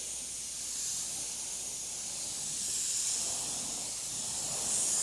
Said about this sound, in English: make sure I have enough of this Cameleon sprayed around the edge